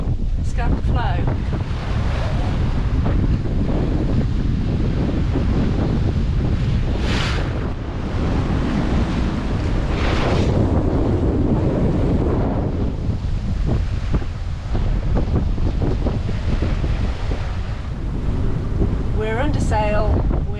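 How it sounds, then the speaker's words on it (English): A sailboat under foresail and main crosses toward Scapa Flow off Orkney on a grey day, with loud continuous wind buffeting the microphone over a steady rush of waves and water along the hull. "We're under sail with the foresail and main, and having a lovely sail, even though it's a bit of a grey day."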